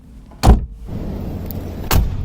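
A children's electric ride-on car door, a miniature Mercedes G-Class, shuts with a firm thud, followed by a quiet mechanical whir and a second soft clunk a moment later.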